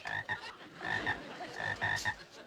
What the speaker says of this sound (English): Get those frogs out of here.